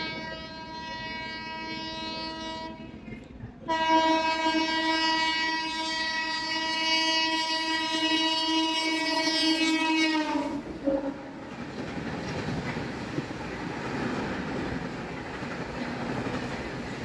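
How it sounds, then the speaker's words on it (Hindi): The AP Express approaches and runs past on an Indian railway line. A long sustained horn blast sounds for several seconds, then it gives way to a loud rushing rumble and clatter of coaches passing close by. "देखते हैं यहाँ से सामने से एक ट्रेन आ रही है"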